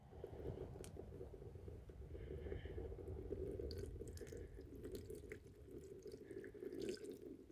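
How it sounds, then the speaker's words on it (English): Liquid pours out of a barrel in a steady, continuous low splashing and gurgling stream, faint and somewhat distant, with no talking. "I'm gonna pour this out"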